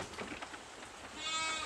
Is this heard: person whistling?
no